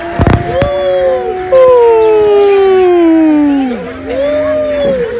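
Wolves at a zoo in Ayub National Park, Rawalpindi, howl in long, loud, overlapping sliding tones, with a sharp bang near the start and crowd noise behind.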